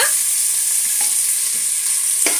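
Onions with bay leaf, cinnamon and green chillies frying in a pan for mutton biryani, a steady close sizzle with a few stirring scrapes and no voices.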